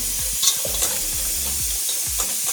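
A spoon stirs tripe soup in a pot on the stove, giving a few soft scraping strokes over a constant hiss of bubbling and sizzling, close by and with no voices.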